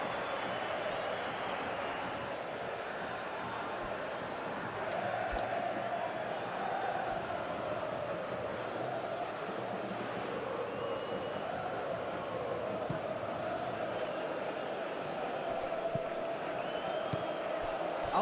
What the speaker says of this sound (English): but it certainly got the crowd going